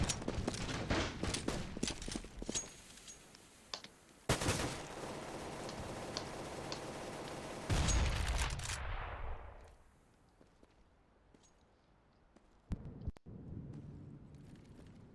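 Rifle gunfire in Counter-Strike during a competitive playoff match, with dense bursts of automatic fire and loud shots coming in clusters, then several sharp isolated shots near the end after a quieter stretch.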